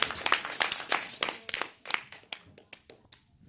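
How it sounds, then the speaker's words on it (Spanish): Church congregation clapping in rhythm during worship: a brisk run of sharp hand claps, fairly faint and somewhat distant, thinning out and tapering off toward the end. "Si vamos a aplaudir, aplauda durísimo, que se escuche en el infierno."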